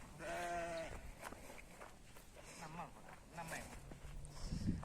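Sheep in their pen on a farm bleat several times close by, the loud wavering cries coming in bursts, with someone speaking between and over them.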